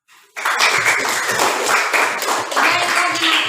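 A class of students clapping their hands together in a room, a loud, dense burst of clapping that starts abruptly and keeps going steadily for several seconds.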